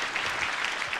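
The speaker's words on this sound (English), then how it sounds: "It's a well-deserved round of applause" Applause from a spelling bee audience, dense and steady throughout, a continuous patter of many hands clapping with no voices over it.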